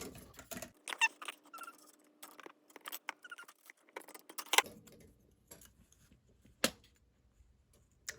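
Scissors snipping through a metal tape measure blade, a series of sharp clicks, squeaks and crisp cuts close by, irregular and spaced apart, with a louder snap near the middle and quiet gaps between.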